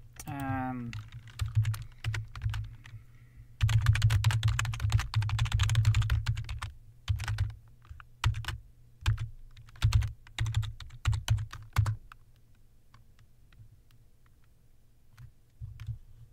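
A password is typed on a computer keyboard in quick bursts of clattering keystrokes, close and crisp, with short pauses between runs and the tapping thinning out toward the end.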